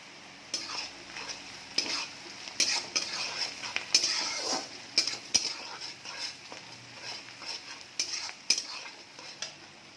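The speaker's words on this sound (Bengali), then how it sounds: "পেঁয়াজটা একটু লাল লাল করে ভাজার জন্য আমি একটু চিনি দিয়ে দিলাম।" Onions fry with a little sugar in a pan, a soft sizzle broken by repeated scrapes and clinks of a utensil stirring against the metal, close and fairly quiet.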